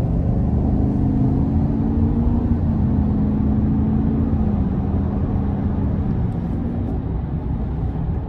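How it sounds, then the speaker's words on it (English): A 2024 GMC Sierra 1500 Denali Ultimate with a 6.2 V8 accelerates onto an interstate, a steady low engine drone and road rumble holding constant throughout from inside the cab, with no talking. "I am going to give it a bit getting on the interstate here. So we'll give it a little throttle here."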